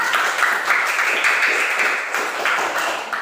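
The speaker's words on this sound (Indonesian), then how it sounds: "Kasih tepuk tangan untuk kelompok 2" Classroom applause for a student group, a brief burst of close, dense clapping from a small crowd that holds steady and eases off slightly.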